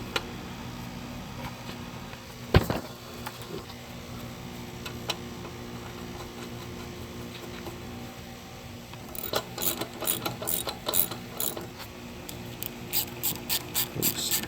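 A ratchet wrench with a 7 mm socket works on the 1.4L engine of a 2013 Dodge Dart: faint shop noise and one sharp knock, then a run of quick, close ratcheting clicks in short strokes.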